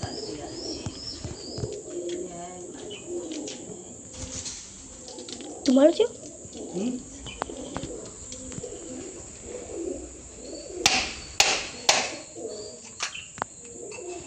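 Pigeons coo softly and wings flap around a Meldi Mata temple, a short burst of flapping standing out midway and a few sharper sounds later, all faint beneath nearby people talking.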